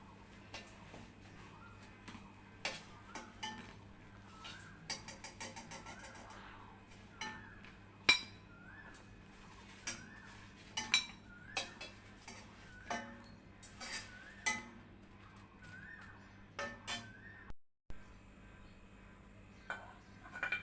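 Steel utensils and a spatula clink and scrape sharply as fried brinjal is lifted out of the pan, irregular close knocks and clatters over a quiet kitchen, with one brief gap near the end.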